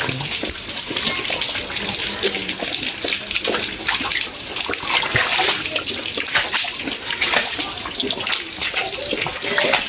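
A tap runs into a bucket, producing a steady, close rush and splash of filling water that continues throughout without pause.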